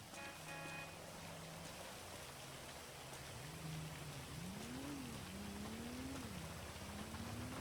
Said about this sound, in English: I'm gonna get up out of this rain